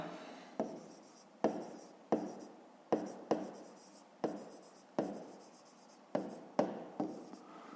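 Pen strokes scratch across paper during a fifth-grade maths exercise, coming as about a dozen quick, close strokes in an irregular rhythm, each a short rasp that fades out, with no talking.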